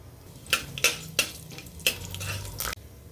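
Mustard seeds and urad dal crackle in hot oil in a cooker, with a few sharp metallic clinks and spoon stirring over a soft sizzle for a few seconds, no talk.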